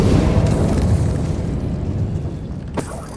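A fiery spell cast in a wizarding video game: a loud, dense whooshing burst of flame that starts strong and slowly fades, with a sharp crackle near the end.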